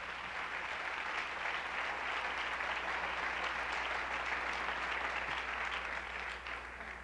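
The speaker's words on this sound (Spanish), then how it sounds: "démosle un aplauso al Señor" A church congregation claps steadily together for the whole stretch, a dense, even wash of applause with no talking over it.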